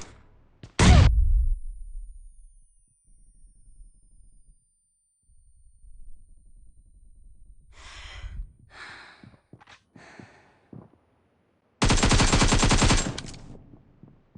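Shotguns boom in a PUBG Mobile match: one heavy, close blast near the start, a scattered run of sharper shots in the middle, and a dense, sustained burst of rapid fire near the end, with brief quiet gaps in between.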